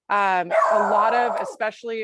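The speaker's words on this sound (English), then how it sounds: "I'm sorry, that's my dog." A pet dog barks loudly in a series of harsh, harmonic yelps at close range, overlapping with a person speaking during a virtual talk.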